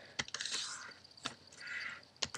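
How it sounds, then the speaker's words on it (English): Slippery origami paper rustling and crackling as it is folded and creased, a few sharp close crinkles with softer sliding rustles between them. "Sorry about the crazy noise, my paper apparently is slippery."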